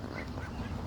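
Ducks quacking outdoors near a garden. A single short, fairly close burst of nasal quacks fills less than a second.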